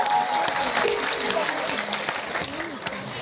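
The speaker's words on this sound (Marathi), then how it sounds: "पॉवरफुल परफॉर्मन्स साठी जोरदार टाळ्या झाल्या पाहिजे." An audience at a school annual day function claps steadily after a stage performance, a dense, continuous wash of applause that fades slightly toward the end, with some crowd voices mixed in.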